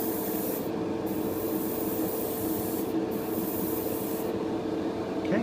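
An aerosol of Pledge Revive It gloss floor finish sprays in a steady, close hissing blast across a floor, broken by a few short pauses, with no voices.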